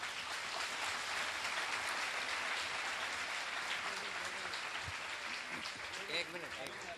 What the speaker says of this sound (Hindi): आपकी तालियां बताती है कि आप सबको अच्छा लग रहा